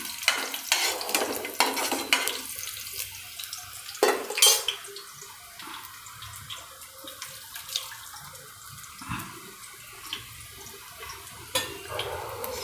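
Curry leaves and chilies crackle in hot oil for thepla chevdo, with soft sizzling and sharp spatters as they crisp, plus occasional stirring clatter, moderately quiet and close.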